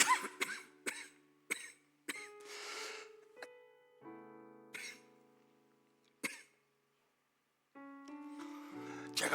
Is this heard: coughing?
yes